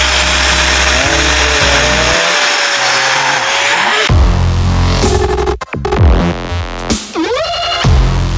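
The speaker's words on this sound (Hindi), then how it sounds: "अब ये ग्राइंडर से खुलेगी, तो ग्राइंडर चालू हो चुका है" Angle grinder cutting into a Thums Up soft drink bottle, a loud continuous whining buzz with shifting pitch, rough grinding bursts midway and scraping surges toward the end, heard up close with no talk.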